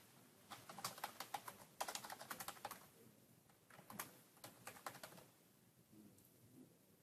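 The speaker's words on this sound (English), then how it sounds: "Now I could begin typing." Quiet, rapid keystrokes on a computer keyboard come in several bursts separated by short pauses, with no talking.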